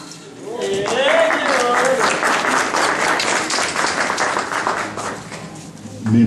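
A crowd at a poetry evening breaks into loud, sustained applause with dense clapping, briefly overlapped by a voice at the start, fading slightly toward the end.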